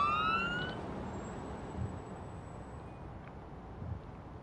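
Ambulance siren in a PS5 emergency simulation video game, a rising electronic wail that fades quickly into a quiet background hum, with no talking.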